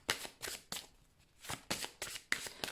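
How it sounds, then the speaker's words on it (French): Oracle cards being shuffled by hand, a series of crisp riffling bursts in a steady rhythm, close and fairly quiet, with brief pauses between shuffles. "Allez, on va aller prendre une carte de l'archange Michael."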